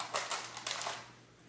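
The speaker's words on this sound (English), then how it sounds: "Okay, I'm going to pull some oracle cards." Oracle cards are shuffled and pulled, heard as a quick run of soft, close flicking and riffling taps that fade into quiet room tone.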